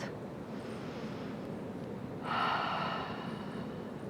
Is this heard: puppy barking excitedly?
no